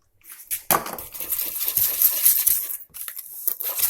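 A spoon scrapes and clinks steadily against a pot while chicken and squash are mixed with coconut milk, a close, continuous metallic stirring with no talk.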